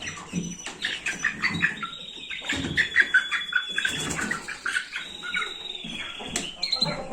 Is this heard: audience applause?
no